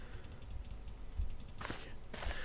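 Computer mouse clicks in the GameGuru 3D level editor, quick bursts of sharp, faint, close clicks that repeat in short rapid runs.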